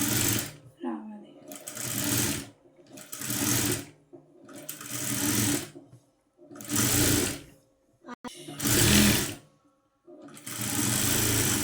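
A sewing machine stitches cloth in repeated bursts of about a second each, separated by short pauses, close and fairly loud. Someone speaks quietly between the runs.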